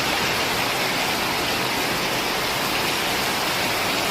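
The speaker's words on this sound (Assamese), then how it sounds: "পূৰা বৰষুণ চলি আছে।" Heavy rain pours down steadily in a dense, unbroken roar, loud and close, with no voices heard.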